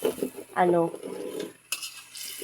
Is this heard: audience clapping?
no